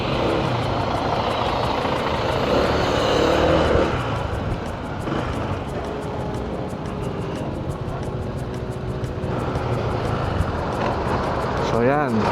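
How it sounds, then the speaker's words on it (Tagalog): Steady, loud traffic noise from heavy engines rumbles continuously as trucks and buses idle and move alongside a motorcycle. "So yan, katabi natin ngayon mga truck and bus."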